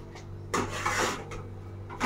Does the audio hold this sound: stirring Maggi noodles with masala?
yes